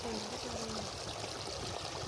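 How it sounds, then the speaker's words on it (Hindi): A small waterfall at a tubewell among fields, water pouring and splashing in a steady, dense rush that fills the whole clip, close and loud. "अब ये देखो झरना, छोटा सा झरना"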